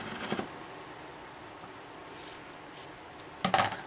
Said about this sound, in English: we're going to trim this off right through the middle of the heel